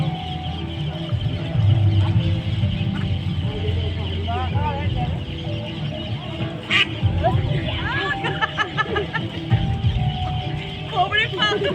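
Domestic duck quacking in an urban natural setting, a few calls heard mid-clip amid people talking and a steady background hum of traffic.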